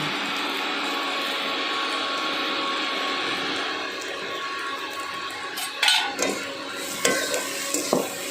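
Onions frying in a pan with turmeric and salt are stirred, a steady close sizzle throughout with a few scraping clinks of the spoon against the pan toward the end.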